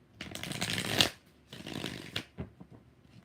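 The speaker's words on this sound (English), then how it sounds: "Three more shuffles." A deck of tarot cards riffled and shuffled up close in two main bursts followed by a few soft taps, with no voices present.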